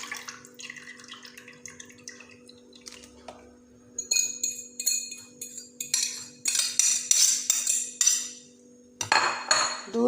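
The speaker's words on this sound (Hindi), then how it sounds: "और मैं अभी पहले डालती हूँ दूध" Milk poured from an opened sachet into a bowl while preparing chicken bread, heard as liquid splashing and trickling with clinks of dishes and utensils, growing louder in bursts toward the end, no talking.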